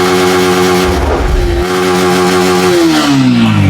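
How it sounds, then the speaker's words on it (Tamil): A Yamaha R15 V3 motorcycle engine revs loudly up close, with a steady tonal drone, a brief throttle blip near the middle and a rising pitch toward the end. "இதுனா வண்டி இது R15 V3."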